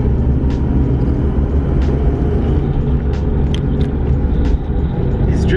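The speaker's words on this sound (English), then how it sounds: "it's drifting on a budget" An old car drifts, its engine a loud, unbroken rumble close by, with faint high squeals flickering above it throughout.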